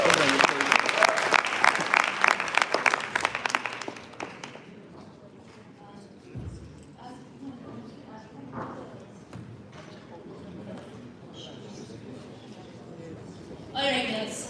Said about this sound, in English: So big round of applause for both of them.